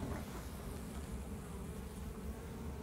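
Honeybee colonies buzz steadily at an apiary hive during a check for varroa mites and feeding, a dense, continuous hum that stays even and close throughout with no talking.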